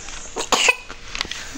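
A child coughs indoors in a short burst of a few harsh, close coughs, with faint household noise and no talk.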